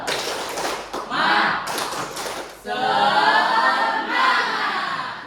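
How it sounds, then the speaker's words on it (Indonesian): A class of students in a school lesson bursts into quick rhythmic clapping mixed with crowd noise, then breaks into a loud shouted group chant. "Coba tepuk semangat."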